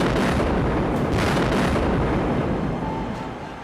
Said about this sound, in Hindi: तभी जोरदार धमाका होता है